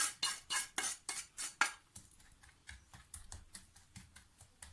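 Hardened peanut brittle is cut and broken on a metal tray in a run of sharp, loud clacks and snaps, about eight evenly spaced strikes at first, then a quicker flurry of fainter taps and crackles, with no talking.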